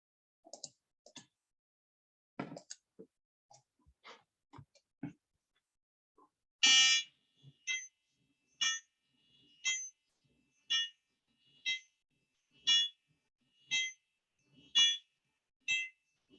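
A small electronic buzzer driven by a Python loop plays alternating do and re tones five times, a run of short, evenly spaced bright beeps after a few faint clicks, heard alone in a quiet room.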